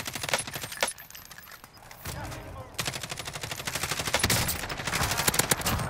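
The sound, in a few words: gunfire in the video game Warzone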